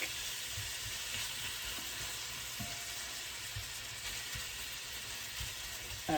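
Ground beef browns in a pan for Hamburger Helper, giving a steady, soft sizzle and crackle with a few faint scrapes and taps of stirring.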